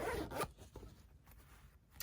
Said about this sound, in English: Then we zip up our zip.